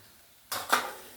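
A utensil stirs soybean bhurji mixed with crushed peanuts in a pan, giving two quick, soft metallic scrapes close by against a quiet background.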